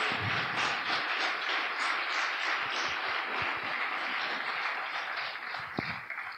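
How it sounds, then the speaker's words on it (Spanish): A church congregation applauds during a worship service, a steady wash of many hands clapping that stays dense and even throughout, heard from a distance with no speech over it. "Preciosa iglesia, levántale un aplauso al Señor"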